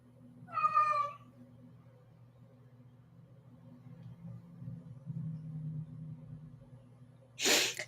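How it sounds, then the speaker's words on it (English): A house cat gives a short, clear meow near the start, followed by quiet room rumble and a faint murmur, then a brief sharp sneeze-like burst at the end. "You hear my cat?"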